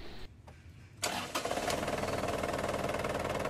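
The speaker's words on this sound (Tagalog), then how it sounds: "ipa-switch off ko naman itong makina tapos pa-start ko ulit yan" An Isuzu Crosswind engine cranks briefly, catches, and settles into a steady, even idle that runs on without talk.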